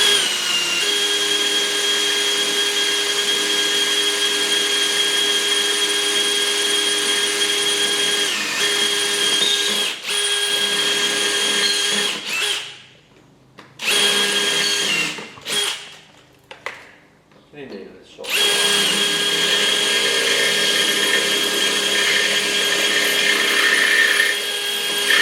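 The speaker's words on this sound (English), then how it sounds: "then what you do is you drill down the side of the nut" A power drill bores down the side of a seized nut on a Ferguson TEA20 tractor, a loud, steady whine that stops and restarts in short bursts midway before running on continuously.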